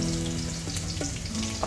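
Sliced banana wafers frying in hot oil fill the frame with a dense, continuous sizzle, close and even, with a faint scrape of a slotted spoon near the end.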